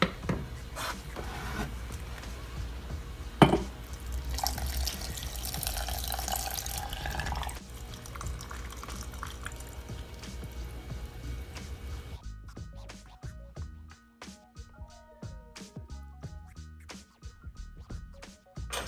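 Liquid pours steadily into a jar being filled to the top for homemade apple cider vinegar with a starter, a continuous close splashing that thins into lighter trickles and drips near the end.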